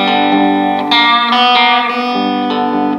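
An electric guitar plays a blues lick through a distorted, effects-laden tone, with sustained notes ringing loud and steady throughout, no voices.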